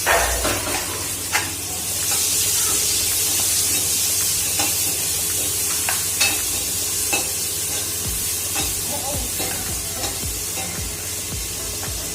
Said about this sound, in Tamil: உருளைக்கிழங்கு பொரியலுக்கு தான் இப்போ வதக்கிட்டு இருக்கேன்